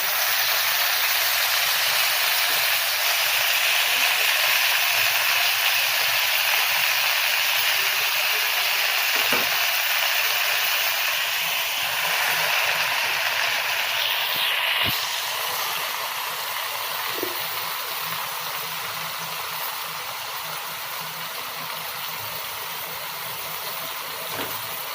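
Red amaranth (lal math) leaves sizzle in a hot pan for a Marathwada-style bhaji, giving a steady, loud, close hiss that eases slightly in the second half, with no talking.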